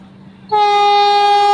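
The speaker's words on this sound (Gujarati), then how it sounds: "તો હવે આવી રહી છે આપણી ઓખા વંદે ભારત ટ્રેનનો ફૂલ ખતરનાક હોંકિંગ કરીને આવી રહી છે" A Vande Bharat express train bound for Okha sounds a loud, sustained horn, a rich harmonic blast that cuts in abruptly after a moment of low rumble and holds steady to the end.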